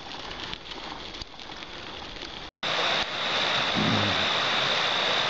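River flowing right beside a campsite in the Sierra de Guadarrama, a steady broadband rush of water that fills the scene, briefly cut off before resuming louder and closer.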